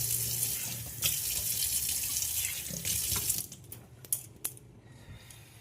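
Tap water pours steadily into a bucket at close range, a full rushing stream for about three seconds that then thins into sparse splashes and drips, with no voices.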